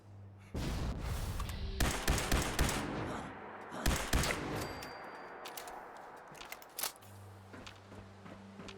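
Loud weapon fire in Fallout 76, with repeated bursts of shots and booms spread across the scene over steady game ambience, several sharp blasts clustered together and then trailing off.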